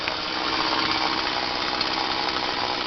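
A bow saw cutting firewood outdoors gives a steady, dense rasping that holds without a break through the short stretch, fairly loud and close.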